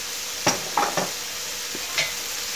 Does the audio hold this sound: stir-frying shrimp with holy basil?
yes